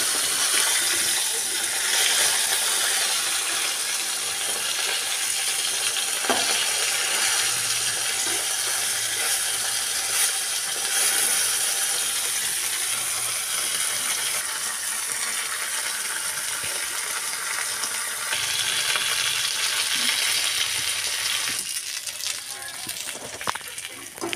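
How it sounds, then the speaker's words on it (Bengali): Fish sizzle steadily in hot oil in a home kitchen, a loud continuous hiss and crackle that holds throughout, with occasional clinks as pieces are turned. "মাছগুলোকে আমি আস্তে আস্তে উল্টে দিচ্ছি। এইভাবে আমি ভেজে নেব সব মাছগুলোকে।"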